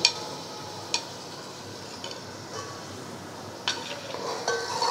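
Spices for paya frying in a pot with a soft, steady sizzle, broken by a few light clinks of a spoon against the vessel.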